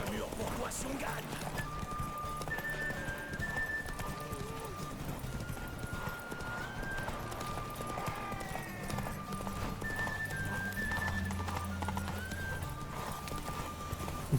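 A horse gallops in The Witcher 3, hooves clip-clopping steadily throughout with occasional whinnies and soft whistling game tones over a constant rumble; a voice talks faintly underneath.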